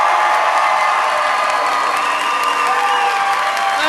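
A comedy-show audience cheers, whoops and applauds loudly for comedian Sean Cullen, a continuous dense roar of clapping and shouting voices with no gaps.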